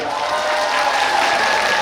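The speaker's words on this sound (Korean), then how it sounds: "박수 한번 부탁드리겠습니다" A festival crowd at the Yangyang salmon festival applauds steadily, a dense, even wash of many hands clapping at close range for the whole stretch, with no distinct voices on top.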